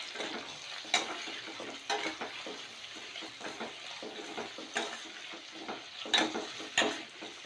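Carrot, beans and tomato sauté together in a pan for samba rava upma, with a soft steady sizzle broken by periodic stirring scrapes and clinks of the utensil.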